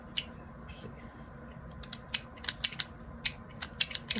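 Small scissors that are not sharp snip a piece of paper or washi tape for a mini planner, giving a few quick crisp snips in an uneven run close to the mic over faint room hiss.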